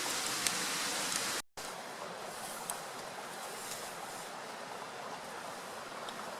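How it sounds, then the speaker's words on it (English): Steady rain falls at a wild lochside campsite in Scotland, a continuous even hiss with no voices and only a momentary dropout early on. "The rain's coming on"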